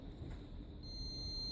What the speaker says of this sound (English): You can hear it alarming and the red light flashing.